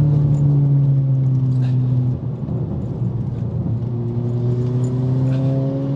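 A Stage 1 remapped VW Golf GTI Edition 30 accelerating on a damp road, heard from inside as a steady, loud engine drone with rising harmonic tones that dip briefly mid-clip before building again.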